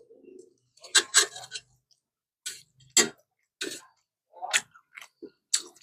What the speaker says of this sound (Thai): เวลากัดมันจะกรุบเลยนะ